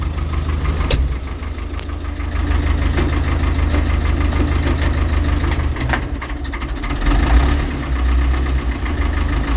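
A farm manure spreader's engine, running during a repair, idles steadily with a low knocking rumble and a slight rise in revving near the end, with no talk over it.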